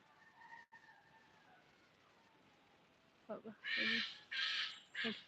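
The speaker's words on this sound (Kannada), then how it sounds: "ಕಿರ್ಚಿತ ಉಂಟು ನೋಡಿ ದೊಡ್ಡ ಹಕ್ಕಿ ಅದು" A large bird gives several harsh, loud screeches in quick succession after a quiet stretch with faint background calls.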